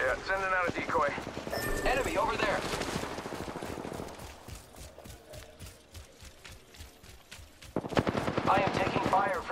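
Gunfire in a video game: rapid machine-gun bursts crackle in dense rhythmic strings, loud and close, with game voices talking over parts of the clip.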